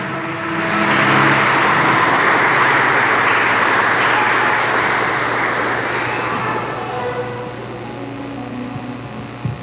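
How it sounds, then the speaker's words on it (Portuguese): Congregation applause praising the Lord during a Portuguese-language church service, a broad sustained wash of clapping that swells early and slowly tapers, with a low hum beneath. "E as palmas engrandeçam ao Senhor."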